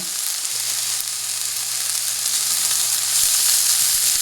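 Chili pepper and cardamom sizzle in hot oil for a Bengali fish curry, a steady, close, even frying hiss that swells slightly toward the end, with no voices.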